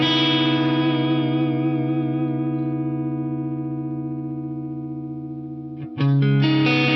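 Guitar tones pass through an Eventide Blackhole reverb pedal: a sustained, shimmering chord slowly decays with wavering modulation, then a new bright chord is struck near the end, loud and alone.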